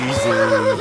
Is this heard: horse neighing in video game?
yes